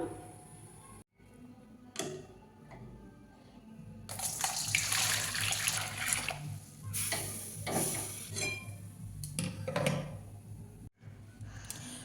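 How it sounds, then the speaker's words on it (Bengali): Warm salted water poured into a bowl for mixing rice flour batter, a steady broadband rush building midway and continuing with brief pauses and clinks, fairly close and quiet, no voices. "উষ্ণ গরম জল কিছুটা ঢেলে নিয়েছি"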